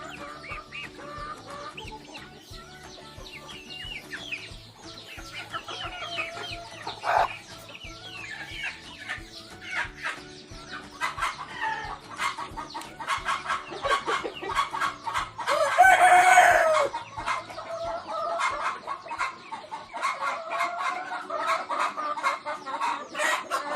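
A chicken being treated for fungus on its head and comb clucks repeatedly and close by, with a brief louder squawk partway through, amid steady soft clicking.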